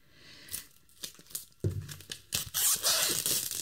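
Packaging of cheap art supplies being opened up close, with crinkling plastic and paper tearing in short bursts that build to louder rustling near the end, no speech.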